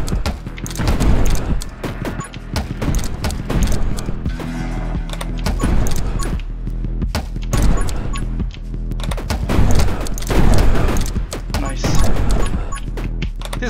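Rapid grenade launcher fire and repeated explosions from the action game 20 Minutes till Dawn form a dense, continuous barrage of booms and cracks, with little pause between blasts.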